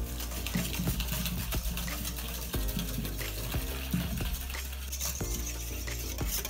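Hot milk infused with lime zest is poured onto a beaten egg and sugar mixture and stirred, giving continuous close liquid swirling and light clinks of a utensil against the bowl, with an undercurrent of low hum.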